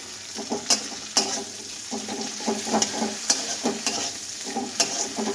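Tomatoes frying in a pan while being stirred, with rhythmic scraping strokes and repeated spatula knocks against the pan over a continuous close sizzle.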